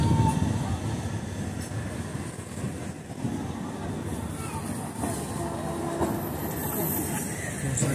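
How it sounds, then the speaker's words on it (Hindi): A passenger train arrives on the Asarwa to Udaipur route, a continuous rumble of wheels and carriages under crowd noise and nearby voices. "पहला ट्रेन आ रहा है ना भाई"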